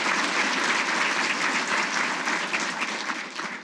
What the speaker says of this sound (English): give this hero a round of applause